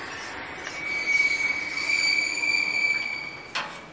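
A 2003 ThyssenKrupp machine-room-less traction elevator in Sergelgången, Stockholm, rises with a sustained high whine and squeal over a low running hum, ending in a short clunk near the end, with no talk.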